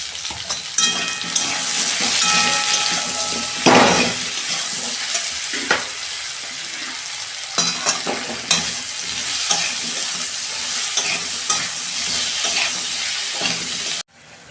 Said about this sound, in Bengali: একটু ভালো করে ভেজে নেব সবজিতে অল্প আমি নুন দিয়ে দিচ্ছি